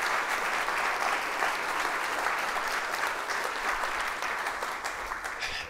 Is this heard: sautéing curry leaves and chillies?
no